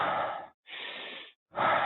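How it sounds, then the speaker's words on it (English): Three long, deep breaths form part of a breathwork demonstration. Each is a steady, airy rush lasting about half a second. Brief silent gaps separate them, and the breathing is close, loud and heard on its own. "breath work is basically circular breathing. And I'll just do 10 breaths real quick to kind of show you"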